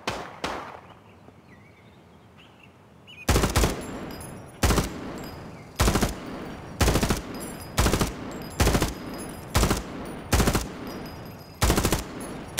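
Automatic weapon fire in the Project Quarantine shooter game, a quiet stretch then about a dozen loud, evenly spaced bursts at close range, each sharp and cracking, with no talk.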